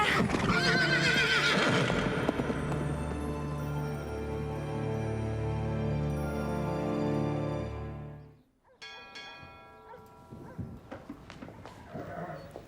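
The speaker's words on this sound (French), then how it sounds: "c'est supposé être le mystérieux cheval fantôme de l'histoire?" A supposed ghost horse in the animated series Grand Galop lets out a long, loud, close neigh with clattering hooves, then after a brief drop comes a quieter stretch of scattered hoof clip-clops and snorts.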